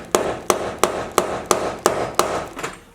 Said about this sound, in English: maybe with a little bit of hammering.